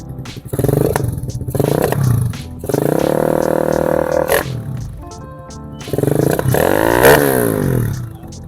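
A Honda Sonic 125 four-valve motorcycle engine revs up in several loud bursts, dropping back to a rough idle between throttle blips, close by.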